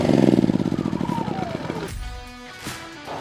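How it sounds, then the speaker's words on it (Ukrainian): An inverter generator engine shut off with its stop lever: a loud, steady pulsing run that slows and winds down over about two seconds, then fades into quiet. "щоб зупинити генератор, повертаємо важіль вимкнення у положення стоп"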